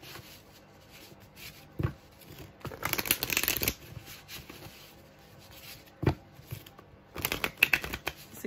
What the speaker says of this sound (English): Shuffle 3 to 4 times.